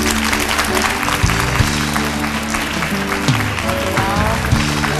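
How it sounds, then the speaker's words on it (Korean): A TV studio audience gives a hearty round of applause to welcome a lecture guest, the dense clapping loud and continuous while music plays underneath. "큰 박수로 모시겠습니다"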